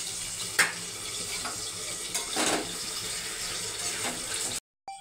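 Frying spice masala with prawns for a vegetable curry: a continuous loud sizzle with scraping stirs and a few sharp clatters, ending in an abrupt cutoff; no voices.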